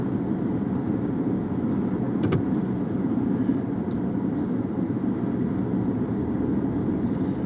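A car drives on the way to a water park, its steady engine and road rumble filling the cabin continuously and fairly loudly, with a couple of faint clicks and no talk.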